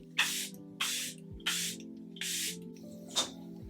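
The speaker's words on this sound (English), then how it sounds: "Setting spray one last time." Five short bursts of makeup setting spray hiss out one after another at a steady pace, close and crisp, with a soft hum underneath.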